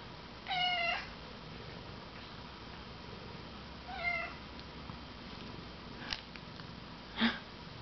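A cat meows several times with quiet gaps between, soft and fairly close, along with faint sniffing and rustling.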